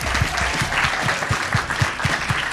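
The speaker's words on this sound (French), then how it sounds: "On peut l'applaudir." An audience claps for Coralie Laperrière at a French-language show, a dense, lively round of hand clapping with a few heavy beats mixed in, steady and fairly close.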